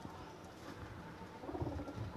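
Small pigeons coo in low, muffled, throaty bursts that grow stronger toward the end, close by over a steady rumbling background, with no talking.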